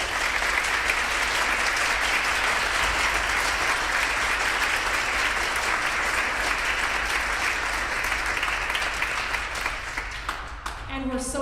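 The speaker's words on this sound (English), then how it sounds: "Let's take a moment to acknowledge them with some applause." A school band concert audience claps loudly and steadily for the music teachers, a dense, sustained wash of close applause that fades slightly near the end.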